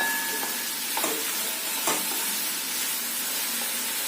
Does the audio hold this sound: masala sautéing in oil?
yes